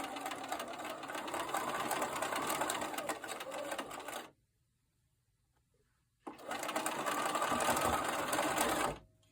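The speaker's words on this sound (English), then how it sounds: "I also have a 1/4 inch foot on my sewing machine." A sewing machine with a 1/4 inch foot stitches quilt fabric in two fast, steady bursts of rapid mechanical whirring. A brief quiet pause separates the bursts, and the sound is close and moderately loud.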